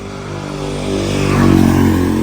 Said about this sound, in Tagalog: Pasensya na sa mga dumadaan na sasakyan kasi ano,